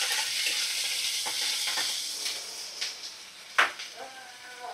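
Ginger-garlic and cumin paste sautéing for biryani gives a steady sizzle with scraping stirs and a few sharp spoon knocks, close and moderately loud, with a faint voice under it.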